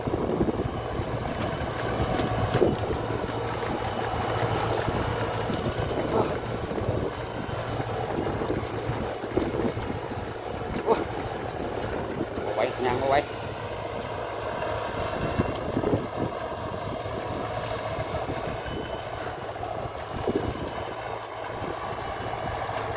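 A Ford 6640 turbo tractor ploughing a sugarcane field gives off a continuous, moderately loud engine drone with clanking and rattling implement noise, plus wind buffeting the microphone, with no voices.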